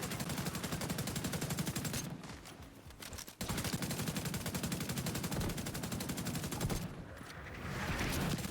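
Rapid gunfire in a video game set in Washington, a dense rattling stream of automatic shots nearly continuous, loud and close, broken by two short gaps.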